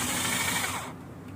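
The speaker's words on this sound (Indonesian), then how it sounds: "kita menggunakan bor ya, terutama untuk bagian yang kita nanti akan kita paku" A battery-powered drill whirs steadily, boring into wood being prepared for nailing, loud and close, then cutting off abruptly near the end, leaving quiet room tone.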